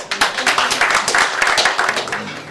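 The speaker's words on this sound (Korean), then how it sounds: "현재로 출발! 박수 주십시오." An audience at a Korean CEO coaching forum claps on cue. The applause is close and brisk, with quick rhythmic hand claps that continue steadily for a couple of seconds with no talking over them.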